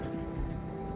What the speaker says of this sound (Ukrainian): Бачите, який дощ.